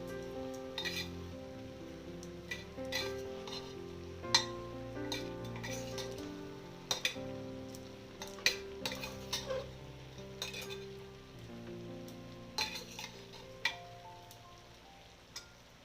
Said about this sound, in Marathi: हे सर्व मिक्स करून घेऊया मसाले